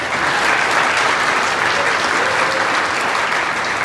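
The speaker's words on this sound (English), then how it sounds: "let's give everybody a round of applause" A crowd claps steadily and enthusiastically throughout at a county spelling bee, a thick, even wash of applause with no pauses.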